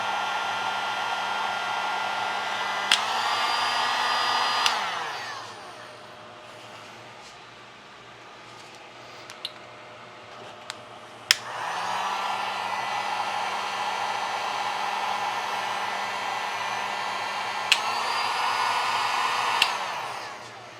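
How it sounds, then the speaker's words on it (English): A heat gun blows steadily on a 12V LiFePO4 battery, its loud whooshing airflow cutting out for several seconds in the middle before switching back on, with a few sharp clicks along the way. "give it one more try with the heat gun to see if we can trigger it"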